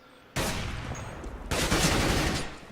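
Gunfire in the game CS:GO: two dense bursts of rapid shots, the second louder and longer, crackling close and harsh after a brief quiet start.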